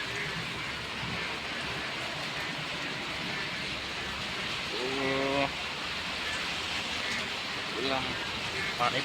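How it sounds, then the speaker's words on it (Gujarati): Rain falling steadily outdoors during a storm, a dense hiss throughout with a voice speaking briefly over it in places. "હજી પણ વરસાદ ચાલુ જ છે"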